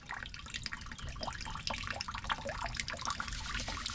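Water is poured over hair to rinse out shampoo, a close, continuous splashing trickle with irregular drips and gurgles and no talking.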